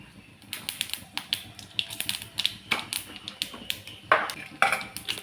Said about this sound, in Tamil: எண்ணெய் காய்ஞ்ச உடனே கடுகு போடணுங்க